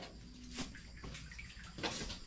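Water poured from a dipper over a body in a cold bathroom bath, a couple of short splashing pours with dripping between them, close and fairly quiet.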